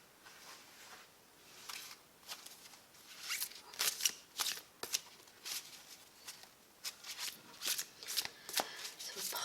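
Solitary witch oracle cards being shuffled by hand, close and fairly quiet, a sequence of quick papery riffles and flicks that grows busier and more continuous after the first couple of seconds.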